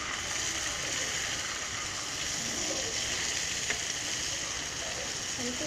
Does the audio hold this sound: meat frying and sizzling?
yes